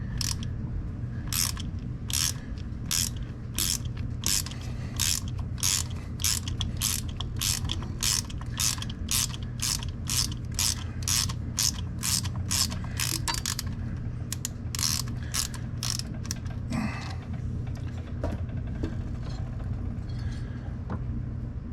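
A ratchet wrench with sockets clicks in rapid, even bursts while loosening bolts on a Harley touring motorcycle, close and crisp over a steady background hum, slowing to a few scattered clicks near the end.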